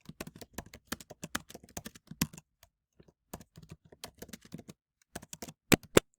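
Quick, irregular clatter of keys on a computer keyboard as a chat message is typed, with a brief pause near the middle and a few harder final taps, no voices.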